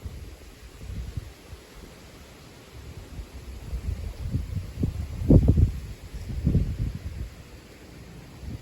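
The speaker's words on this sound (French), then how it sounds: "Toujours beaucoup de vent." Strong gusts of wind ahead of building thunderstorms in July, a steady low rushing roar buffeting the microphone, with heavier surges midway that rise and fade.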